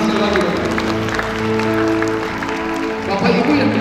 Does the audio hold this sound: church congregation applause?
yes